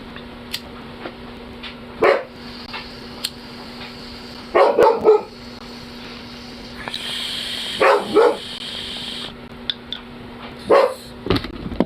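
A dog barks in short bursts, four separate clusters spread out with pauses between them, loud and close over a quiet indoor background hum.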